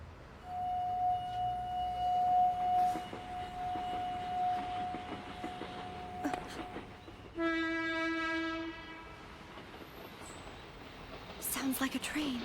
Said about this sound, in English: Sounds like a train. It's coming.